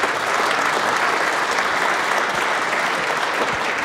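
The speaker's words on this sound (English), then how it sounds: "I'd like to ask all of you to give them a round of applause for their support." Audience applauding at a 10-ball billiards tournament event, a dense, even burst of clapping from a room full of spectators that holds at steady volume without pause.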